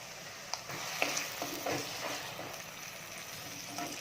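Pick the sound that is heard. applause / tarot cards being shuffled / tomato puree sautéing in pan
tomato puree sautéing in pan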